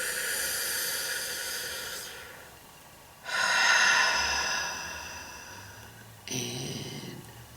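A deep breath drawn in during a guided tapping and havening relaxation exercise, a long airy hissing inhale followed by further breathy exhales, close to the microphone with no speech over it.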